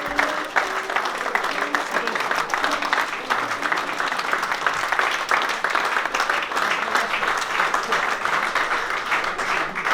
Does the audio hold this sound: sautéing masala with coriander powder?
no